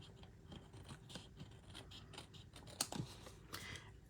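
Scissors snip paper trimmed to even edges for a craft project, a run of short, soft, close cuts in steady rhythm with one sharper snip near the end.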